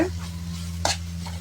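A spoon stirs a thick tava burger masala mixture in a pan, a low steady scrape with one brief louder clink partway through, close and alone over a constant hum.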